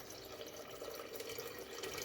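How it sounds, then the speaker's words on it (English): Filtered water pouring steadily into a container during kitchen preparation of flavored water, a soft continuous trickle and splash with no speech. "so now I'm going to pour in some filtered water"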